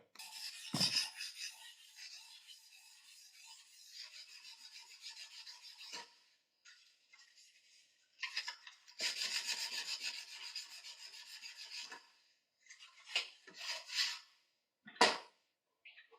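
Guitar fingerboard being sanded with 220-grit sandpaper, a close, faint dry rasping in repeated back-and-forth strokes with short pauses between passes.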